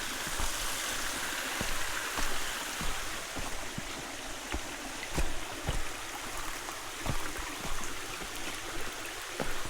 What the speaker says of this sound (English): Coming up to a small little tributary.